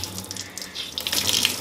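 Tap water runs steadily into a bathroom sink while a makeup sponge is rinsed, a close, continuous splashing hiss with small bursts as the water hits the sponge and basin.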